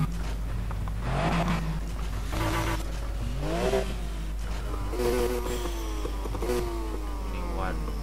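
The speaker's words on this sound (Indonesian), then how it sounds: "Coba kita dengarkan suara-suara mesin-mesin lainnya." A Mazda RX-7 rotary engine in the Need for Speed racing game revs in repeated rising sweeps, loud and steady, with a constant low hum underneath.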